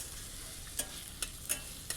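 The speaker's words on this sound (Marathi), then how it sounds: "कांदा, टोमॅटो आणि कारली व्यवस्थित अशी छान खरपूस होतील अशी भाजून घ्यायचं आहे कढईत छान." Onion, tomato and bitter gourd frying in a kadhai, a soft continuous sizzle broken by a few sharp scrapes and clinks of the spatula as it is stirred, close and fairly quiet, no voices.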